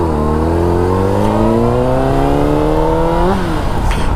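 A Honda CBR sport bike engine revving during a U-turn, pitch climbing steadily, then dropping off sharply near the end, loud and close with wind noise and no talking.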